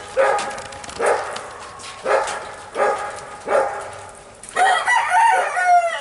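A rescue rooster held in a backyard pen crows repeatedly, five loud, evenly spaced calls mixed with some barking-like bursts, then a longer, busier run of calls near the end, with no talk.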